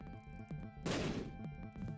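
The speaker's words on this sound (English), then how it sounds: "Power pill that caused some sort of explosion, sure" A power pill in The Binding of Isaac: Repentance sets off a short, loud, booming game explosion that bursts over a backdrop of steady tones and repeated soft thumps, then fades back within about half a second.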